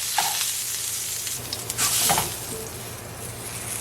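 Mushrooms fry loudly in a pan for a vegan pot roast, a close, steady sizzle with brief stirring scrapes and bursts of crackle.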